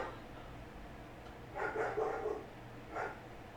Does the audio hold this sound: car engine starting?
no